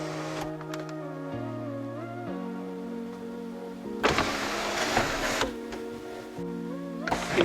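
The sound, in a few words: Cadillac Escalade power sunroof motor tilting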